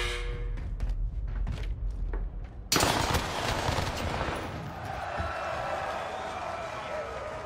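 Heavy automatic gunfire from a video game shooter, with rapid bursts that become a continuous loud roar partway through, mixed with shouting voices.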